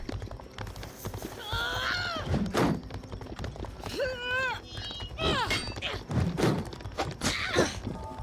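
Rhythmic hoof clip-clops of a galloping horse in a game, mixed with shouting voices, whooshes and sharp pitched effects, fairly loud and busy.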